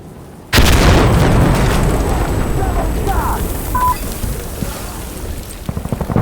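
A frag grenade explodes in the video game Insurgency Sandstorm with a sudden loud boom that rumbles and decays slowly over several seconds, ending in a few smaller crackles.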